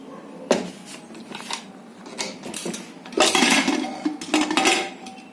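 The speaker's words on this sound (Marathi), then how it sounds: "आता कुकर खाली घेते" A pressure cooker of sprouted moth bean masala curry being lifted down off a kitchen stove, with a series of metallic clanks and knocks of pot against burner, louder bursts toward the end, no talk.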